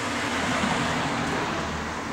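A car passing close along a roadside makes a brief, steady broadband road rumble and tire hiss at moderate loudness, with no voices.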